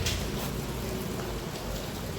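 Rain beginning to fall outdoors in Surat, a steady, even hiss of drops filling the whole moment without pause or voices.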